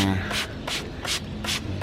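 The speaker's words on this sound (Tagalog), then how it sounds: "yan ang pag-spray niyan." A hand spray bottle misting a jade plant (Crassula ovata), four evenly spaced hissing pumps about a half-second apart, close and fairly loud, with faint low rustling underneath.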